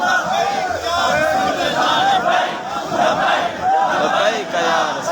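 A crowd at a religious gathering chants the slogan "zindabad" in unison, loud, dense massed voices rising and falling in repeated rhythmic waves across the whole stretch.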